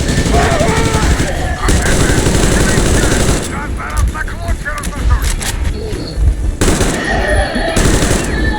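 Rapid bursts of gunfire in Metro Exodus Enhanced Edition crackle loudly and continuously during a fight on a steam train, with shouting voices mixed in over the shooting.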